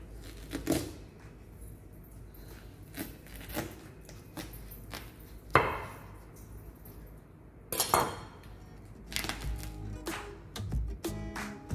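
Knife cutting into a heavy yellow watermelon, a few sharp cracks and thuds spaced several seconds apart with quieter scraping between, close-up and without speech.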